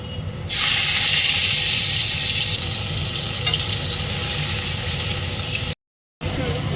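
Loud, steady sizzling of chopped garlic and ginger frying in a hot pan, a bright hiss that starts abruptly and continues, briefly cut off near the end.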